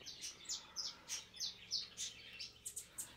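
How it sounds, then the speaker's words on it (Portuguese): Cardinals sing in a series of repeated bright chirping notes, faint and somewhat distant, coming in a steady rhythm with quiet background and no voices. "Os cardeal cantando aí."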